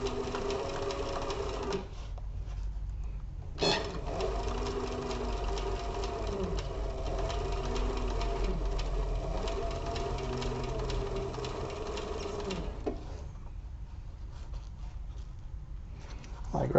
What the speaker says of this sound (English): So I'm going to keep sewing